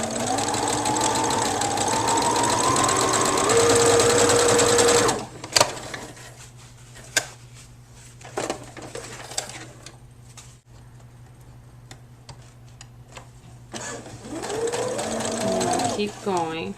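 A sewing machine stitches through a quilt made from fashion fabric, running loud and steady at first, then falling to intermittent short bursts and clicks before speeding up again, with a person talking throughout.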